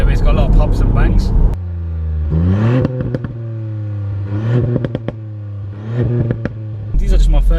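A 2019 Ford Fiesta ST MK8 engine revs up and falls back several times, loud and close, with sharp crackling pops and bangs from the exhaust on each lift-off.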